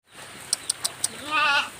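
A goat bleats once with a long wavering cry, preceded by a few sharp clicks, close and fairly loud at a market where goats are being sold.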